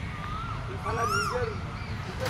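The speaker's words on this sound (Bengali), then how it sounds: "ভীষণ কোকিল ডাকছে" An Asian koel calls in spring at a riverside on the Ganga at Batanagar, a rising whistled note ringing out briefly amid a noisy outdoor background with a faint murmur of other sound.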